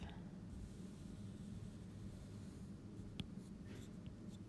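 Pen or pencil drawing a graph by hand on paper, a soft, continuous scratching close to the microphone, with one brief sharper tap near the end.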